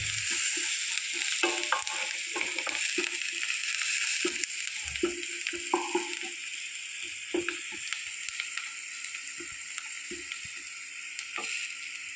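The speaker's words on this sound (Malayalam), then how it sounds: "ഇനി നമുക്ക് ഇതിലോട്ട് കുറച്ച് വറ്റൽ മുളക് ചതച്ചത് ആഡ് ചെയ്ത് കൊടുക്കാം. നന്നായിട്ട് നമുക്ക് വഴറ്റിയെടുക്കാം." Onions sauté with crushed dried red chilli in a pan, a constant bright sizzle underneath occasional spatula scrapes and knocks, close and steady for the whole stretch.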